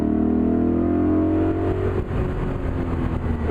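A Tushek Renovatio T500 supercar accelerates hard, its engine note rising steadily in pitch as it pulls through a gear, loud and close with no talk over it.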